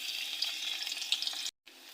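Chopped onion and garlic frying in hot oil in a karahi, a steady close sizzle that drops out for a moment before resuming.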